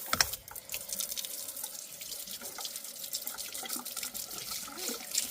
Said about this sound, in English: So now I am going to rinse my butter really well with cold water.